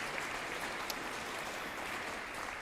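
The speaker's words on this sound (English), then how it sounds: "Can we have a round of applause for Joan and Edmund Anderson and Barbara Lee" An audience at a jazz memorial applauds, a steady, fairly faint wash of clapping from a distance that lasts the whole moment.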